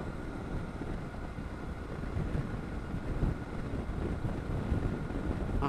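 Steady broadband wind roar buffeting the microphone while riding a BMW F800GS motorcycle with a tall screen in a side wind, loud and continuous with slight surges throughout.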